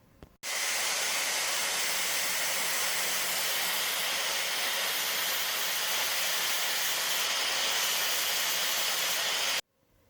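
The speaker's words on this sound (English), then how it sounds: "I'm just going to use an angle grinder, carve it off flat" An angle grinder carves a hardened air-cooled VW rocker arm flat, a steady, loud, high-pitched grinding hiss that holds constant for about nine seconds before cutting off abruptly.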